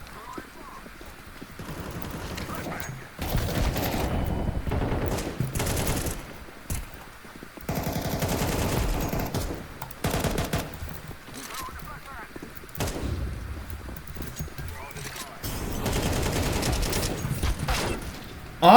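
Counter-Strike 2 gunfire comes in several loud, rapid bursts with brief pauses between them, repeating throughout and mixed with other in-game sounds.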